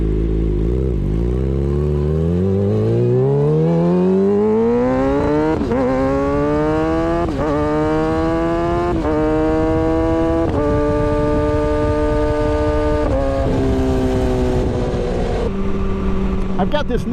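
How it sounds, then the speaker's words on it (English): A BMW M4 exhaust roars loudly while driving, its pitch climbing repeatedly through several gear changes with brief dips between shifts. "I've got this nice sounding exhaust now, the M4. It's doing some singing, getting some cool little pops and bangs."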